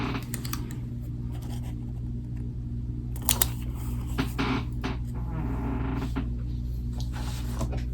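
An electronic planner sticker cutting machine working through a sheet of box stickers, giving a steady motor hum with quick irregular clicking and scraping ticks throughout, close up and without talk.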